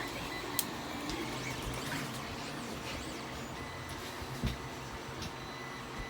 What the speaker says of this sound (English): the printed part that I'm printing right now